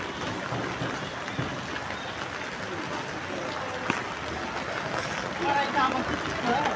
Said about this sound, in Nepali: यस्तो पानी परिरहेछ आज त पानीले त आँखै उघारेन